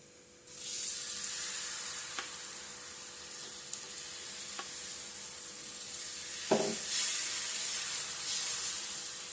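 Oil sizzles in a pan, starting abruptly and hissing steadily at a moderate level, with a few faint clicks and one brief clatter partway through.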